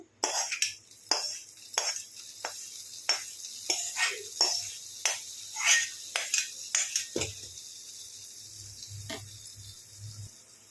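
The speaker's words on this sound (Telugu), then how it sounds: "తాలింపునైతే ఇందులో వేసేస్తున్నాను." Hot tempering is poured into a bowl of chutney and stirred with a spoon, a series of close, quiet scraping clinks against the bowl in an uneven rhythm, with a faint voice near the end.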